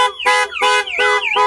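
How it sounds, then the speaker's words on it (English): A Clifford 330 six-tone aftermarket car alarm siren blares on a Ford, loud and close, cycling through rising and falling warbling tones in rapid repeated sweeps. "So yeah, that's the Clifford siren going off."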